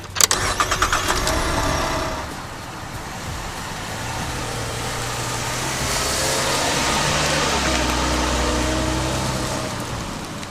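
A 2010 Chevy Camaro engine cranks and catches in a quick burst of starter bursts, then settles into a steady low idle rumble that swells slightly, loud and close, with a faint hiss in the background.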